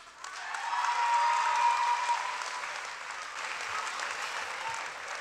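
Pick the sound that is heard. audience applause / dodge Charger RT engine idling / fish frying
audience applause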